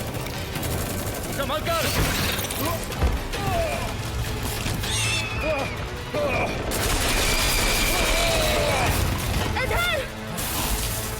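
Soldiers fire on swarming bugs in the animated film Starship Troopers: Traitor of Mars (2017, Hindi dub), with dense continuous gunfire mixed with shrill creature shrieks. A voice briefly shouts over the battle.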